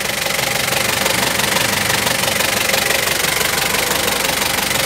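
A 2009 Thaco Foton truck's diesel engine idles steadily and fairly loudly, a continuous low rumble with a faint rhythmic knock and no voices.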